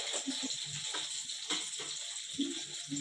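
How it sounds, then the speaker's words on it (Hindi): Four potatoes frying in a cup of hot oil, a steady soft sizzle and crackle with occasional pops and stirring clinks, fairly quiet and continuous. "ये 1 कप ऑयल लिया है, उसमें सबसे पहले 4 अदद आलू फ्राई कर लेंगे हम"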